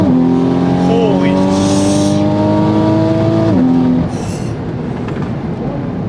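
A tuned Toyota MK5 Supra at full throttle from around 60, heard from inside the car. The engine note climbs steadily in one long pull, then cuts off abruptly near the end, leaving a lower drone.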